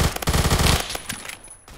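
Rapid automatic fire from a Vector submachine gun in the video game Phantom Forces, a loud dense burst of shots lasting under a second, then trailing off into fainter scattered gunfire in the distance.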